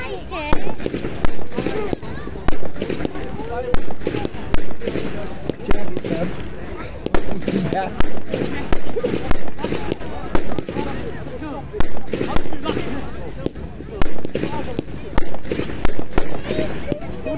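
Fireworks explode at a fair display in a steady series of sharp bangs, roughly one each second, loud and nearby, while people talk throughout.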